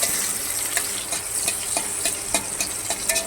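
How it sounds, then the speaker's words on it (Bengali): Chopped onions fry in hot oil with cumin and bay leaf. A dense, close sizzle runs the whole time, with frequent light scraping taps as a spatula stirs the pan. "একটু নাড়াচাড়া করে নিচ্ছি"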